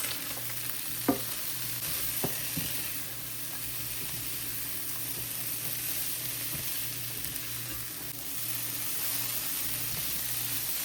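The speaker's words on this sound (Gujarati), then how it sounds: "પછી નાખીએ કેપ્સિકમ, ના બેને થોડીક વાર થવા દઈએ ને પછી નાખીશું કોબીજ" Capsicum and carrot fry in a pan with a steady, even sizzle and hiss, joined by a few soft scraping stirs near the start, heard close with no talk.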